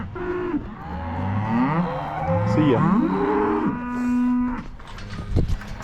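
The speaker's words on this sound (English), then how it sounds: "These are all heifers, so they're pretty small." Heifers being sorted at a fence line during calf weaning moo loudly and repeatedly, with several overlapping, drawn-out calls close by and a voice briefly speaking near the end.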